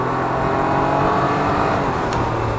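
A 2019 Can-Am Ryker 900 three-wheeler's engine revs steadily and loudly as the machine accelerates up to speed, a sustained mid-pitched drone that stays close throughout.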